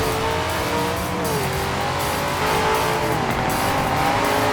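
A Dodge Charger's engine in the racing game Forza Horizon 4 roars steadily as it accelerates, with a rising engine tone and some tire noise, loud and continuous with no speech.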